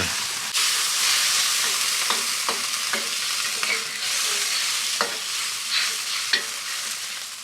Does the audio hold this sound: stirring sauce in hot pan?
yes